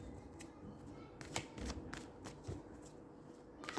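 Tarot cards being shuffled and drawn one at a time for a seven-day reading: soft papery riffles and sharp card snaps recur irregularly, close and fairly quiet, with no talking.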